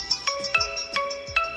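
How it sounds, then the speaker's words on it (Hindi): A Fastrack Revoltt FR1 smartwatch plays its incoming-call ringtone, a bright electronic chime repeating in quick regular pulses, loud and close with no talking. "दोनों में रिंगिंग आपको देखने को मिलता है।"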